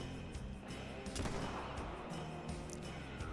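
A muzzleloader rifle fires once while hunting a black bear in theHunter Call of the Wild. A single sharp shot rings out over a low outdoor ambience, followed by a lingering rumbling tail.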